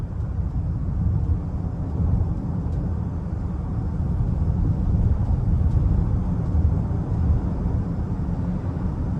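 A 2021 GMC Acadia Denali FWD family SUV on the move, heard as a steady, even engine and road rumble from inside the cabin, continuous and moderately loud without sharp changes.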